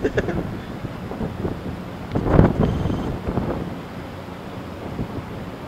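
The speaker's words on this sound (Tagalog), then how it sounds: "Mahangin pa yun." Hurricane winds buffet the microphone with low rumbling roars, swelling strongly in the middle and then easing, with faint voices underneath.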